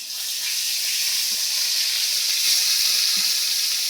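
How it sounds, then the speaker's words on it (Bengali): Pointed gourd (potol) slices fry in hot oil with a steady, loud sizzle that holds for a few seconds, broken by a few soft stirring knocks in a Bengali home kitchen. "আর এবারে কি হবে, পটল ভাজি।"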